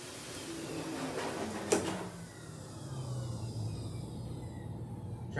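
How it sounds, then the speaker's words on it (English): A pet dryer blows on a Lhasa Apso after its bath, giving a close, steady whooshing hum with a short mechanical knock near the start. "I'll turn this dryer on for just a second."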